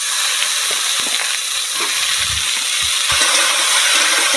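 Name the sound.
onion and potato frying in a pan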